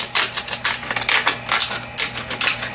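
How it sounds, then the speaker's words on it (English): Scissors cutting away excess fabric around a traced circle: a series of crisp, close snips in an uneven rhythm, about eight cuts in quick succession, heard alone without talk. "take your scissors and cut off the excess material around that circle"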